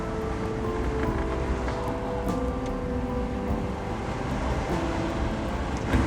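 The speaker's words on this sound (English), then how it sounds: "You can actually hear the wind." Strong wind from severe weather in the Smoky Mountains roars through the open windows of a car, a loud, continuous buffeting rumble with occasional gusts and rattles, heard up close with no voices.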